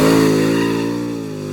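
A 1986 Chevrolet C10 milk truck with a 338 small block engine drives on a street, its engine a loud, close, sustained rumbling drone with a steady harmonic tone that eases slightly over the moment.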